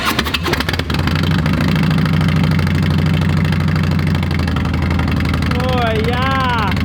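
Harley-Davidson Road Glide bagger fitted with a new exhaust starts up and runs loudly nearby, a steady deep rumble with throttle blips, while people talk over it.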